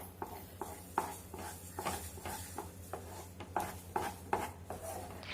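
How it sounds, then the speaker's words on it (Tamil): A spoon stirs sugar into beetroot rava kesari in a pan, giving soft repeated scraping and clinking strokes against the metal at a steady rhythm, faint and close, with a low background hum. "நம்ம எடுத்து வச்சுருக்க சர்க்கரையை கொஞ்சம் கொஞ்சமாக சேர்த்து நல்லா இந்த ரவையோட கலக்கி விடலாம்"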